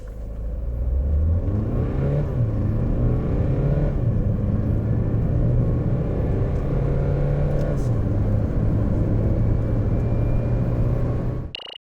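A Renault Captur 1.5 dCi diesel accelerates hard from a standstill, its engine drone rising steadily in pitch and holding loud and close through a gear change, then cutting off abruptly at the end.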